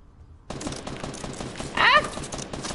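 Gunfire rattles in a Fortnite Battle Royale match, a continuous stream of rapid shots with a louder burst near the end.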